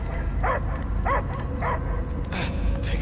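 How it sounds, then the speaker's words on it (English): A dog barking in the Guardians of the Galaxy video game, three evenly spaced barks at moderate distance over a low rumbling game soundtrack, followed by a brief whimpering yelp. "I hear only barking."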